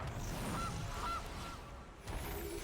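Goose honk played as a card effect in Magic: The Gathering Arena, two short nasal honks in quick succession over a busy game background, followed by a faint brittle clatter.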